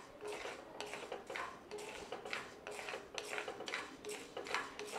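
Wild rice being dry-roasted in a pan gives a steady run of soft, gritty scraping and rattling strokes at an even pace, with no voices.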